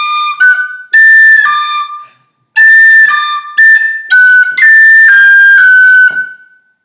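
Tin whistle playing a variation of the Irish tune Kitty's Rambles in a series of bright, clear, sustained high notes with short breaths and pauses between phrases, played alone and close.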